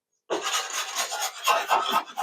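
Sandpaper rasps back and forth over the wooden fuselage sheeting of a giant-scale P-47 Razorback model airplane, a close, steady scratchy rubbing in several quick strokes.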